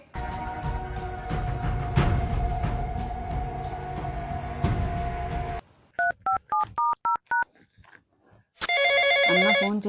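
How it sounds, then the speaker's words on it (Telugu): A phone rings for an incoming call: after a loud, noisy stretch come a quick series of keypad-like beeps and then a bright electronic ringtone burst at the end, with no talking. "అన్న ఫోన్ చేస్తున్నాడు"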